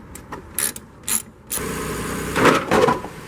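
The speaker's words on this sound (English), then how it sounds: "We disconnect these by popping them up with a screwdriver and removing them." Plastic pop clips on a car's door fascia being levered loose with a screwdriver: a few sharp snaps close by, followed by a continuous rattling, scraping clatter of plastic.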